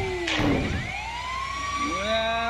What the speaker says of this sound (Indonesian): Awas ada ambulan.